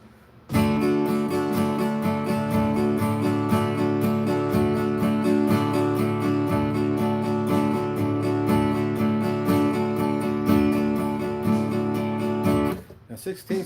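An electric guitar strums chords in a steady, driving sixteenth-note rhythm, loud and continuous for about twelve seconds with sustained ringing tones, then stops abruptly.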